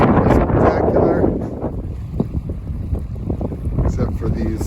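Strong wind buffets the microphone on the Hudson River shore, a loud, continuous rushing roar with gusty surges and no clear voices.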